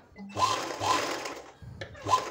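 A sewing machine stitches around a blouse back neckline in short bursts, its motor whirring close and steady, then briefly pausing before starting again.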